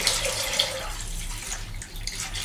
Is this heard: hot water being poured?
yes